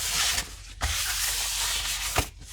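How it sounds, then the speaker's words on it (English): A rag rubs steadily across a brake rotor on a 2005-2012 Nissan Pathfinder after brake cleaner is sprayed on, giving a close, continuous scrubbing swish broken by a couple of brief taps. "Wipe it off with a rag."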